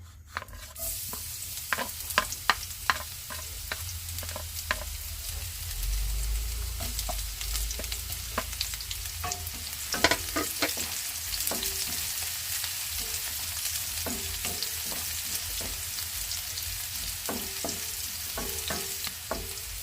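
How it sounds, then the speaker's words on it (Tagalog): Onion and garlic sauté in hot oil for a sarciado of bullet tuna with pechay, a constant close sizzle broken by repeated sharp clinks and scrapes of a spatula against the pan. "gisa na tayo ng sibuyas at bawang"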